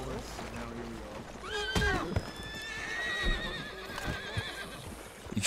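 A horse whinnies loudly with a rising, wavering neigh in the western game Red Dead Redemption roleplay, backed by hoof clops and background noise.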